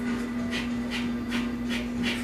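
Kapalabhati fire breath with forceful, active exhales and passive inhales, about five rhythmic huffing puffs at a steady, quick pace, close and clear over a constant low hum.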